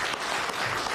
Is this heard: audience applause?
yes